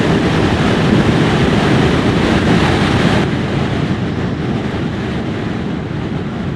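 Loud, steady wind buffeting the microphone while riding a 2023 Moto Morini STR650 Seiemmezzo motorcycle at speed, a continuous broadband roar that eases slightly halfway through, with no talking.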